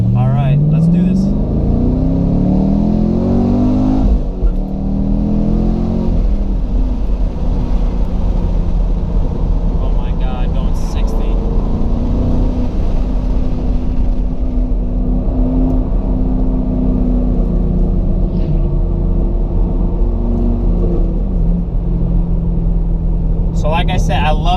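A 2014 Chevy Camaro SS engine revs up from first gear and climbs through several gears on an open road, pitch rising and dropping with each shift, loud and close throughout.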